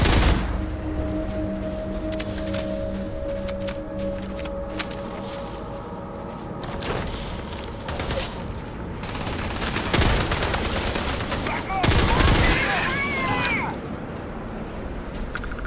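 Rifle gunfire in Starfield, sustained rapid bursts of shots and crackling impacts over dense game noise and music, continuing almost throughout with brief lulls.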